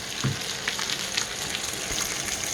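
Wagyu steak searing in a pan of butter with rosemary, giving a steady close, bright sizzle and spatter that runs throughout, with a few sharper pops and no talking.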